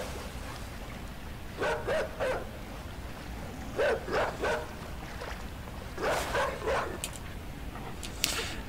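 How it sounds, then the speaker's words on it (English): A dog in the video game Inside barks in several short clusters of yaps and bow-wows, moderately loud over a dim ambient background, with no talk. "Here comes the doggy."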